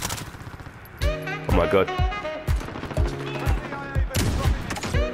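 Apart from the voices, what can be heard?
AX50 sniper rifle gunfire in Call of Duty Modern Warfare video game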